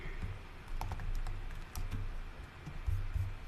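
Java code is typed on a computer keyboard in quick, uneven bursts of close key clicks with a few brief pauses and heavier thuds, heard alone without talking.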